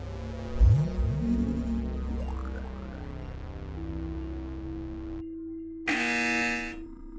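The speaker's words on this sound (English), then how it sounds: "once again, the buzzer coming from SCOE" An electronic quiz show buzzer sounds in a television quiz competition, a sustained tone with a sudden louder harsh burst near the end.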